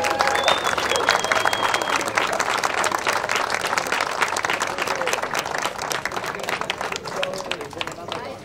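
A final round of audience applause at a high school groundbreaking ceremony, dense continuous clapping from a sizable crowd with scattered sharp claps, loud and sustained throughout, easing a little near the end.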